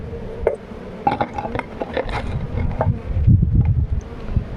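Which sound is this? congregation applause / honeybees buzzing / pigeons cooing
honeybees buzzing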